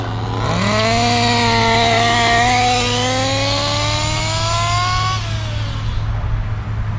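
A Kyosho Inferno NEO 3.0 RC buggy's small nitro engine winds up sharply and holds a loud, high buzzing whine at partial throttle through its break-in, then drops off near the end, close and steady with no voices.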